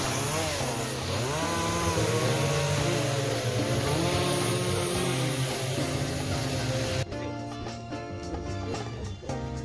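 A petrol chainsaw cuts through wood, its engine screaming at high revs with the pitch shifting under load, then dropping abruptly to a rougher, lower-revving idle near the end, close and loud throughout.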